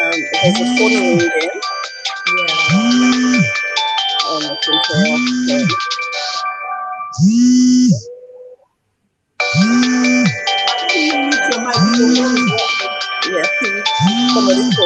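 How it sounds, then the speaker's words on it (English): A phone rings in repeated bursts with a steady rhythm, then briefly cuts out and resumes ringing loudly. "There's a phone ringing."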